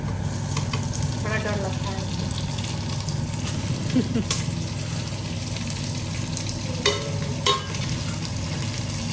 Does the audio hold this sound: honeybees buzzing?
no